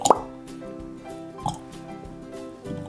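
Frozen strawberries drop into a container of water with a few soft, hollow plops spaced about a second apart, close and quiet against a faint background murmur.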